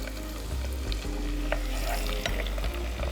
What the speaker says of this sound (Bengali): আমি 1 কাপ পরিমাণ পেঁয়াজ দিয়ে দিচ্ছি।